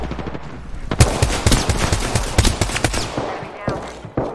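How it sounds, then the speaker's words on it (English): Rapid automatic gunfire from a video game firefight, loud and dense bursts with sharp individual shots over a few seconds, with faint voice chatter mixed underneath. "I'm taking shots. Firing."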